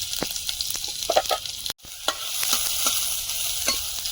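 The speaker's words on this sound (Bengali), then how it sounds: "তেল দিয়ে দিচ্ছি শাক ভাজাটা বসিয়ে দেব" Crushed garlic and water spinach frying in hot oil in a pan, a steady close sizzle broken by a few sharp scraping stirs and one brief drop-out partway through.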